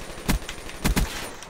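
Galil rifle fire in Call of Duty: Black Ops 3 comes as a few sharp, close shots: one single crack, then a quick double burst, over a low game-ambience bed.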